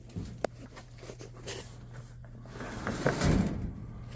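The door of an electric dryer is opened or closed with a few soft knocks and a brief thud near the end, heard over a low steady hum, with no talking.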